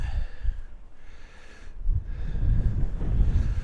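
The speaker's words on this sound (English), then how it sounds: "Windy up here." Wind buffets the microphone in low, rumbling gusts on a hilltop, rising and falling and swelling stronger toward the end.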